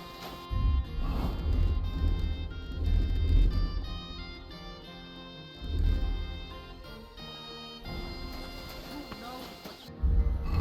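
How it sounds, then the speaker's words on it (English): Horse hooves clip-clop in the medieval game Kingdom Come Deliverance II, steady hoofbeats heard in bursts under music and someone talking. "It's a horse."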